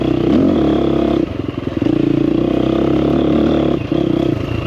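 KTM 350 XC-F four-stroke dirt bike running in its soft engine map, a loud, close, steady engine drone with a brief throttle dip around the middle and another near the end, mechanical clatter underneath, no voices.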